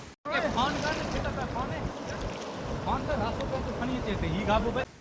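Water spilling steadily over a dam spillway after heavy flow, a continuous broad rushing roar with wind buffeting the microphone, no voices.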